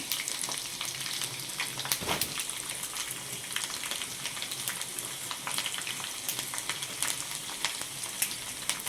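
Dried red chillies and garlic sizzling steadily in hot oil for tempering palakura pappu, a dense continuous crackle close up with a brief louder spit and stir near the start.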